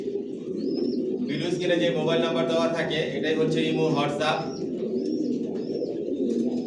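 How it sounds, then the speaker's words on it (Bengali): Original racer pigeons of the Johnson Long line coo softly in a rooftop loft in Dhaka, with faint chirps scattered across the clip while someone speaks over them. "আমার লফটে সব একই লাইনের কবুতর পালি, জনসনের লংয়ের, অরিজিনাল রেসার"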